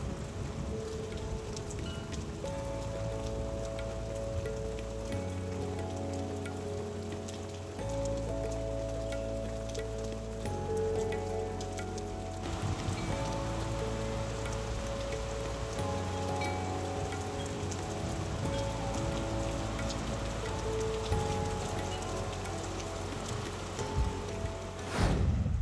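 Steady cartoon rain patters down evenly for the full stretch, with a dense hiss of drops on surfaces and a sustained musical score running underneath, on a rainy day at a floating boat market in a village.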